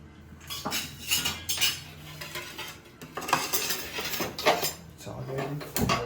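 A knife chops vegetables on a chopping board in a home kitchen while restaurant-style chicken fried rice is prepared. Irregular bursts of close clatter and clinking come and go, with people talking in the background.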